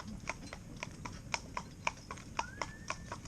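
Jake, a cob horse, walking with steady clip-clop hoofbeats, each strike sharp and evenly spaced, moderately close over a low rumbling background.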